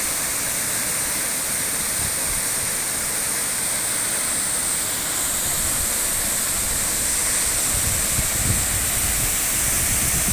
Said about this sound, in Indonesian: konten singkat kita tentang masalah air terjun Curup ya, yang ada di Pendagan ya